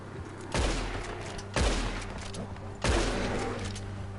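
Gunfire in the video game Red Dead Redemption 2: three loud, booming shots about a second apart, each with a rumbling tail that rings on between blasts.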